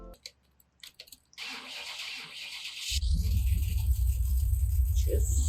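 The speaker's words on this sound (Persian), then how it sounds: "یه استارت بزنیم ماشینو." A car engine starts in the video game Car Mechanic Simulator: scratchy clicks and a whir of cranking, then a loud, steady low idle that holds to the end.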